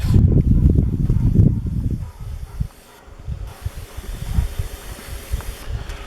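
A hand-pumped garden sprayer mists a whitefly mix onto plants outdoors, giving a strong steady hiss for about two seconds, then quieter intermittent spraying and rustling.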